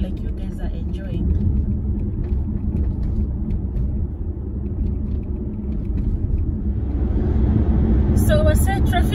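A car drives along a road on a motorway trip, a steady low engine and tyre rumble filling the cabin throughout, growing slightly busier toward the end.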